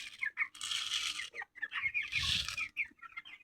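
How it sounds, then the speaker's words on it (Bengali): Chickens on a small poultry farm of about thirty birds cluck and call in repeated close bursts, with brief pauses between the flurries of clucking and some flapping movement. "আমার খামারে 30টা মুরগি আছে"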